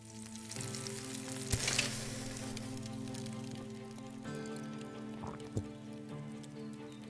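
Food sizzling and frying over a campfire in the open-world settlement-building game Above Snakes, a steady crackling hiss with soft stirring and cooking clunks, moderately quiet with no talking.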